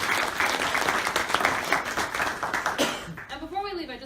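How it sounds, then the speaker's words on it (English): An audience applauds a panel at the close of a talk on heroin addiction and recovery, steady dense clapping for a few seconds before it thins and a voice begins speaking. "We all give a round of applause to our panel."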